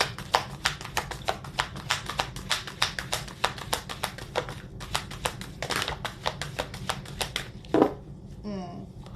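Cards shuffled by hand, giving a long, even series of sharp, close riffling taps. A short pause follows, then a brief final flurry and a soft rustle at the end.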